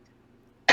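After near silence, one loud, harsh cough bursts out at close range and cuts off abruptly.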